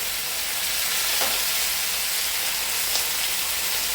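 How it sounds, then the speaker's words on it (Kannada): Spiced fish fries in a pan as a steady close sizzling hiss, even and unbroken, with a couple of faint clinks or stirs partway through and no talk. "ನಾನೀಗ ಎರಡು ಫ್ರೈ ಮಾಡ್ತಾ ಇದ್ದೇನೆ"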